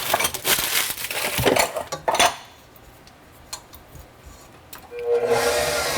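Dry ingredients being mixed in a bowl with utensils, busy scraping and clinking for the first two seconds, a quiet pause with a few soft taps, then scraping resumes near the end.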